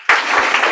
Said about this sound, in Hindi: आप लोग एक बार जोरदार ताली बजा दें।